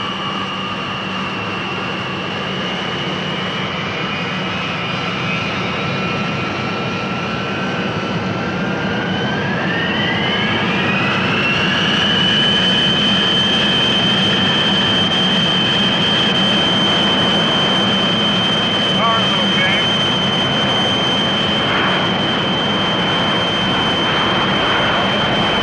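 Jet engines of a 1960 aircraft on a rolling takeoff with noise abatement at St. John's, Newfoundland, a steady loud roar with a whining tone that climbs in pitch as power builds, sustained throughout.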